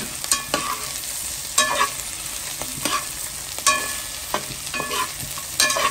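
Onions browning with dried octopus (zourite) in a cooking pot, a steady sizzle with repeated scraping stir strokes roughly every second, close and fairly loud, with no voices.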